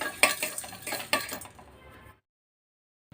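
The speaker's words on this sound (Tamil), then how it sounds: "இது லேசாக எண்ணெய் இல்லாமல் ட்ரை ரோஸ்ட் பண்ணிக்கலாம்." Whole spices, including chillies, fennel and coriander seeds, are dry roasted in a pan without oil, with a few sharp scraping and stirring rattles that fade and then stop into silence.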